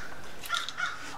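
Crows caw outside a garage where a 1973 Honda CB750 is being worked on, two or three quick calls sounding faint and somewhat distant.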